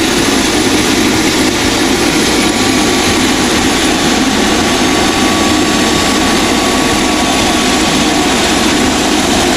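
A helicopter that has just landed among trees in a dark, snowy forest keeps its engine running. It makes a loud, constant turbine and rotor roar nearby, with no voices over it.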